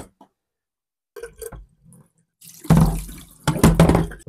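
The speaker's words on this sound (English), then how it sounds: "lay this down, and some water might drip out" Water splashing and trickling out of a removed charcoal cartridge from an APEC five-stage reverse-osmosis filter, a few soft drips followed by louder sloshing gushes, close and alone.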